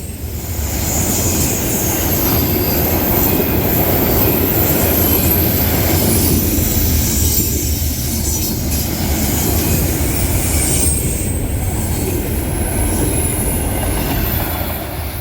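A CSX freight train rolls through town, a loud continuous rumble of railcars and wheels with intermittent high metallic wheel squeal, steady and close for the whole stretch, with no voices.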